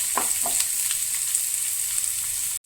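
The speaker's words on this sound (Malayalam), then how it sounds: "അതിലേക്ക് ചെറുതായി അരിഞ്ഞ് വെച്ച് സവാള ചേർത്ത് കൊടുക്കാം." Finely chopped onions fry in a pan for kothu idli, giving a steady, close sizzle with a couple of soft stirring scrapes before it cuts off abruptly.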